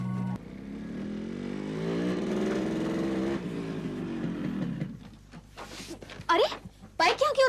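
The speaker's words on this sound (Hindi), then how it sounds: "अरे बाइक यहाँ क्यों रोकी?" A motorcycle engine hums steadily at close range and then winds down and cuts out partway through, in an Indian TV drama scene; people speak briefly over the idle and afterward.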